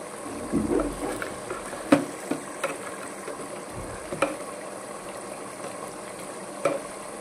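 Mutton fry with chili powder and salt cooks in a pan, giving a soft bubbling simmer broken by a few sharp spoon scrapes and clinks, with no talking.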